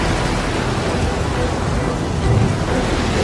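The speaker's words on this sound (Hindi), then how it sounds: "मैं जानता हूँ ये भयंकर तूफान मेरी वजह से तुम पे आया है" A violent thunderstorm at sea in a film scene roars as dense, steady rain and wind noise, loud throughout, with a low thunder rumble swelling near the end.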